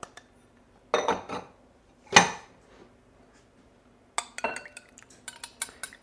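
Melted butter and crust ingredients for keto peanut butter cheesecake cupcakes stirred in a bowl, a few short bursts of spoon clinking and scraping against the dish separated by quiet pauses.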